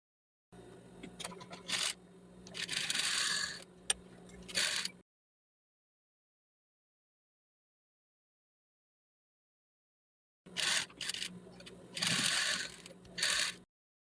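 Sewing machine stitching strips of red and black fabric for a rug, two rapid whirring runs of several seconds each, separated by a long silence.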